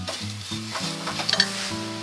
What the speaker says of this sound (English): give it a bit of a stir, get rid of any lumps of brown sugar